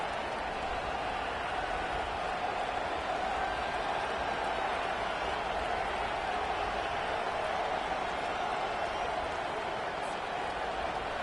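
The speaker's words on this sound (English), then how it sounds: "This crowd bringing the energy and noise early." Stadium crowd in the NCAA 25 college football video game, a dense, steady roar that holds at an even level from start to finish without breaks.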